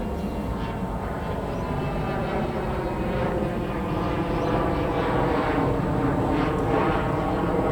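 An airliner flies overhead, a continuous broad engine roar that stays loud and even throughout with no talking.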